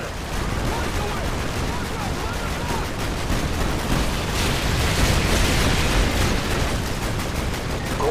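Artillery strike in Call of Duty: Modern Warfare 2, a dense, loud wash of explosions and rattling gunfire filling the scene continuously, booming and rumbling without letup, with speech faintly mixed in.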